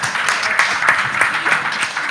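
An audience at a church general assembly gathering applauds, giving a steady, dense wash of clapping for a couple of seconds with no voices on top.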